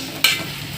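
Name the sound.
tomatoes sautéing in oil for mutton biryani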